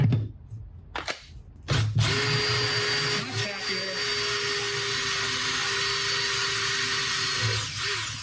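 A battery drill fitted with a hole saw cuts through wood, spinning up after a few handling knocks into a loud, sustained whining grind that runs steadily for several seconds close by.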